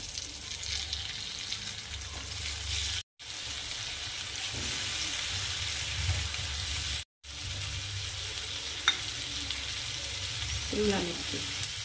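Mixed vegetables, including capsicum, cabbage and peas with tomato and spices, sizzle steadily in a pan, with a constant frying hiss broken by two short gaps and the occasional scrape of stirring.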